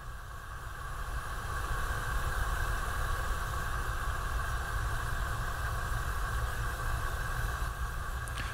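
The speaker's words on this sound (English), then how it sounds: "So just a gas Bunsen burner burning." A gas Bunsen burner burns with a steady low roar and soft hiss, fading in over the first couple of seconds and then holding constant and close.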